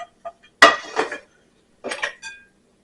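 A spoon mixes peppers and onions in a bowl, with a few sharp clinks and knocks against the bowl and short scraping bursts between quiet pauses.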